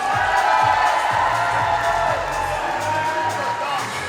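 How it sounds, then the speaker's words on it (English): Audience at a PCA bodybuilding show cheers and whoops in a loud, steady crowd roar, with scattered shouts and voices mixed through the din. "audience members, can we have a round of applause?"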